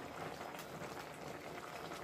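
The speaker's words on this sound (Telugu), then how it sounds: "మసాలా నూడిల్స్ అయితే బాగా ఉడుకుతూ ఉన్నాయి, దగ్గర పడింది కూడా." Masala Maggi noodles bubble in a pot on the stove, a close, steady, soft simmering burble with no voices.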